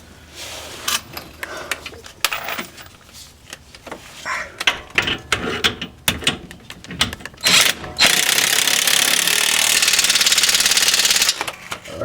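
Bolts on a polyurethane rear transmission mount being tightened with a power tool, heard as close, irregular mechanical rattling bursts and then a steady high-pitched ratcheting whir lasting several seconds.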